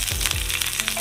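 Chopped garlic sizzles in hot oil with fenugreek seeds, a dense close frying hiss with a few soft pops throughout a brief moment.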